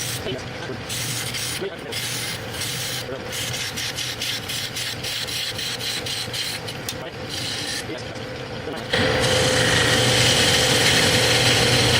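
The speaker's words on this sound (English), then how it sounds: "I'm going to switch up to my large gouge, do some roughing out." A large woodturning gouge roughs out a giant chess king on a lathe, giving a continuous scraping, rasping cut with rapid ticking from the spinning blank, close up. The motor hum steps louder partway through, and no one speaks over it.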